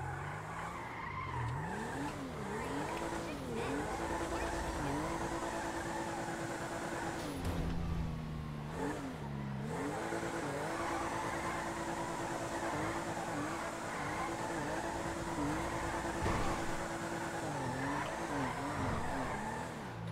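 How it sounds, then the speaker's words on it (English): A car drifts in GTA V with sustained tire squeal and skidding over a revving engine whose pitch climbs and drops repeatedly, loud and close throughout with no talking. "This car actually drifts really nice."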